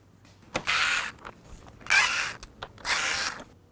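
Power drill backing out three screws from a Can-Am Spyder RT panel near the mirror mount, heard as three loud whirring bursts, each about half a second long with short pauses between them.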